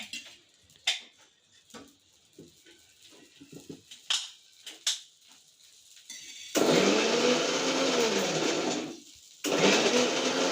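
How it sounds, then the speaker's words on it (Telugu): Mixer grinder grinding chutney in a home kitchen, starting loud and close after a stretch of quieter clinks and rustles, whirring steadily for a few seconds, stopping briefly, then starting again. "నేను అక్కడ చట్నీ పడుతున్నా,"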